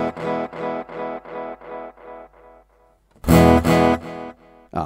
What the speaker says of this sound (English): that's a basic echo unit by the looks of things